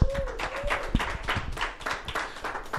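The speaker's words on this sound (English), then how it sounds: "I want to hear a round of applause for the voice of Almani" Audience applause at a live talk show closing, a crowd clapping steadily for a few seconds with scattered individual claps standing out, moderately loud and close.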